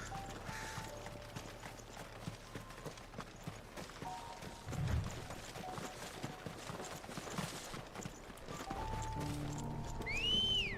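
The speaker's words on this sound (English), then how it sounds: "we can call our chocobo from another continent" In the video game Final Fantasy XVI, a chocobo mount is summoned with a whistle, followed by hoof-like clip-clop and a bird call near the end over steady game ambience and music, moderately quiet.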